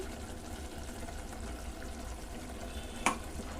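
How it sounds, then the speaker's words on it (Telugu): Mutton bagara rice with cashew paste is stirred in a pot, giving a steady soft scraping and bubbling texture at low level, with one sharp utensil clink near the end. "ఒక్కసారి బాగా కలుపుకుందాము"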